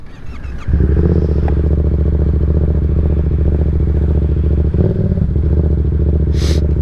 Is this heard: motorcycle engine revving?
yes